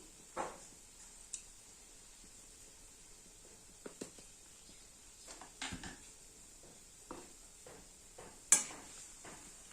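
Poppy seeds being stirred into a vegetarian potato and pointed gourd curry in a pan: soft, irregular scraping and tapping of a spoon against the pan over a faint steady hiss, close and quiet, no talking.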